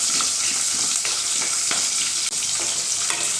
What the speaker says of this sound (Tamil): சின்ன வெங்காயத்தை சேர்த்துட்டு நல்லா வதக்கிடலாம்